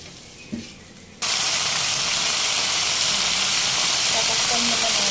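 Onion, tomato, garlic and mushrooms hit a hot pan with bitter gourd for ginisang ampalaya, a quiet start broken by a small clink, then a sudden loud, sustained sizzling hiss that holds steady to the end.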